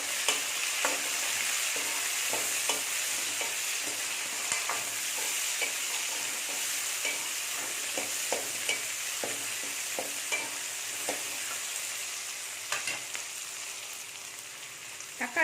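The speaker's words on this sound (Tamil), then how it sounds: "தக்காளி நல்லா வதங்கிடுச்சு." Tomatoes sauté in hot oil in a pan for kathirikkai kulambu, a soft continuous sizzle under repeated spoon scrapes and stirring taps that recur irregularly throughout.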